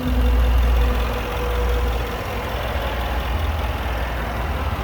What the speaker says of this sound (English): As you can see, the Supercharged V8 is idling very happily.